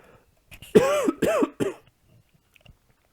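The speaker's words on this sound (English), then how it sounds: "Do apologise once again for the coughing." Three harsh coughs in quick succession, close and loud, followed by quiet breathing and small shuffling noises.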